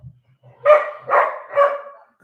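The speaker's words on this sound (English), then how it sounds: "And the dogs are freaking out." Dogs barking indoors, three loud close barks in quick succession, preceded by a few faint low sounds, with no talk.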